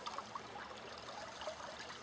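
Water from a gold-prospecting setup flows steadily in a low, even trickle and wash, with no voices.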